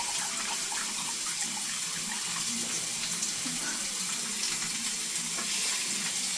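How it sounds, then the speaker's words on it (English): Liquid draining from a can into a kitchen sink, a steady close splashing and hissing pour that runs continuously without pause. "I'm just going to take a moment And drain it."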